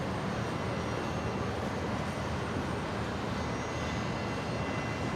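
A Qantas Dash 8 turboprop arrives at Brisbane Airport with a steady, loud, broad engine roar that holds evenly from start to finish, with no talking.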